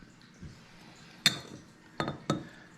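Glass lamp shade chimneys, 2.5 inches in diameter, clink sharply against each other three times: one bright knock, then a quick pair close together, against a quiet background.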